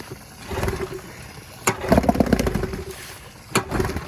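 An old outboard boat motor is being cranked to start, giving a few short bursts of sputtering engine noise separated by sharp pull-cord snaps, close by and moderately loud.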